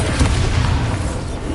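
A loud, continuous booming rumble from a Bombarda spell explosion in a Harry Potter video game, sustained and heavy throughout with no voices.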